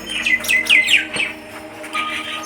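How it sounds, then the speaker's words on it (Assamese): Birds nesting in trees chirp and squawk in quick, bright bursts, several overlapping calls close by with a low steady hum beneath, and no voices. "চৰাই গোটেই মানে গছত চৰাই বাঁহ লৈ আছে"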